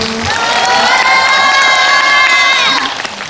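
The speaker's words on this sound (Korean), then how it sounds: "네, 박수." Loud audience applause and cheering at a film promotion live talk event, with high excited shouts and whoops layered over clapping, close and dense before tapering off at the end.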